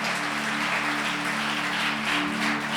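A church congregation applauding during a Portuguese-language worship service, a continuous dense patter of clapping under a steady low hum, fairly loud and unbroken throughout.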